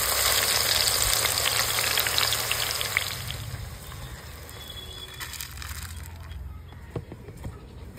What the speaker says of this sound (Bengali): ততক্ষণে পেঁয়াজটা বেরেস্তা করে নিই